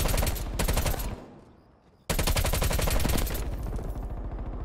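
Rapid automatic gunfire from a Call of Duty: Black Ops Cold War match on Nuketown, loud and close, with two dense bursts split by a brief lull.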